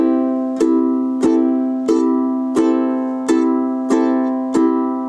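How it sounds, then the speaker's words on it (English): Ukulele strummed down and up with the index finger, about seven evenly spaced strums ringing on, played close and clear with nothing else heard. "Okay, so let's try down up together."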